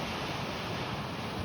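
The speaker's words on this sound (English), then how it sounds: "but this is the Pacific Ocean." Pacific Ocean surf washing against a rock jetty, a constant broadband roar with wind buffeting the microphone, steady and loud with no distinct individual breaks.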